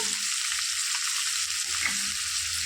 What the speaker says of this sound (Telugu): వేయించుకోవాలండి ఎర్ర రంగు వచ్చే వరకు